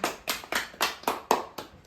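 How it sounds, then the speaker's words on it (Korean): A group of children at a Bible doctrine school camp claps in rhythmic bursts of celebratory applause, about seven sharp, evenly spaced claps close by in under two seconds, with no talking. "성공 박수."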